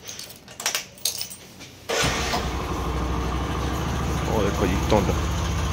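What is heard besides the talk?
motorbike being started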